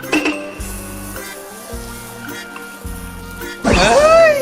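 Kitchen clinks and quiet voices give way to a sudden loud sizzle as pancake batter hits a pan on low heat near the end.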